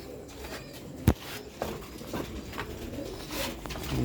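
Pigeons kept on a rooftop in Sialkot coo softly at moderate distance, with a single sharp tap partway through and faint outdoor background.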